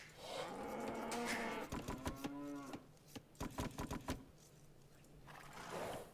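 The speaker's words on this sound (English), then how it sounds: "Where's my second set of cows?" Cattle moo in the video game Diablo 2, several drawn-out calls from the cow level overlapping in a rising and falling chorus, then clipped bursts in quick succession, fairly close and alone without speech.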